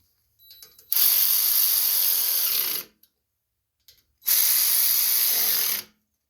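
A ratchet tightens carburetor bolts on a Briggs & Stratton snowblower, giving two long, close, steady clicking runs of about two seconds each, separated by a short pause.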